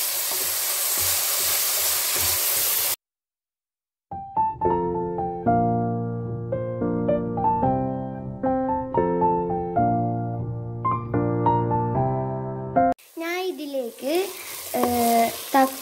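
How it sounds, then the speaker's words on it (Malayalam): Onions sautéing in oil for a beef biryani masala crackle and sizzle loudly with rhythmic stirring scrapes for a few seconds, then a short silence gives way to background music. "ഞാൻ ഇതിലേക്ക് എണ്ണ ഒഴിച്ചു കൊടുത്തിട്ടുണ്ട്. പിന്നെ ഇതിലേക്ക് ഉള്ളിയും ചേർത്ത് കൊടുത്തിട്ടുണ്ട്. ഇനി നന്നായിട്ട് വരട്ടിയെടുക്കുക."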